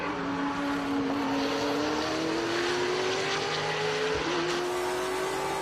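Race cars roaring past at the VIR SpeedTour race, a loud sustained engine drone with a slowly rising whine, heard at a distance with broad crowd-like noise and no voices.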